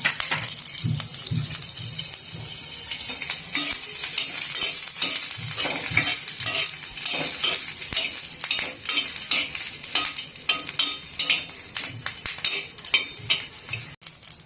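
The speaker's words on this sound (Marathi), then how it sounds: "यावर आता तेल टाकून आपल्याला छान भाजून घ्यायचं आहे।" Green chillies roast in hot oil in a pan, giving a loud, continuous crackling sizzle with frequent stirring scrapes and sputters close up, and no voices.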